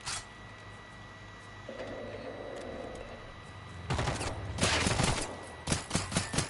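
Rapid bursts of armor-piercing gunfire from the AP gun in the Generation Zero video game, arriving in loud clustered volleys after a quieter stretch, with the last shots coming as separate sharp cracks.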